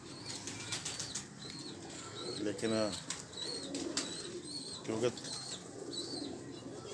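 Pigeons flap their wings in bursts of fluttering, with soft cooing and a few chirps, while people talk nearby.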